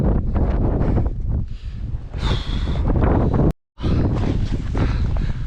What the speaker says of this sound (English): I'm at the top of this hill and the wind is much worse than I expected